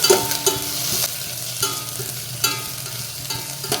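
Capsicum (large bell pepper) stirred and frying in a pan for restaurant-style tomato spaghetti: steady sizzle with a handful of sharp spoon scrapes and knocks against the pan at irregular intervals, no voices.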